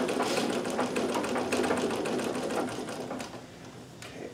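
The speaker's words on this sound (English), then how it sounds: "the stitching I was doing there is what looks like, when you initially see it, is a multi-point zigzag" A Necchi BU Nova sewing machine stitches a multi-point zigzag, its needle chattering in a fast, even mechanical rhythm up close, loud and steady before easing off near the end.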